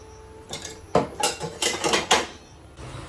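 A spoon clinking against a bowl while feeding water to an elderly man indoors, several separate taps and scrapes at close range over a quiet background.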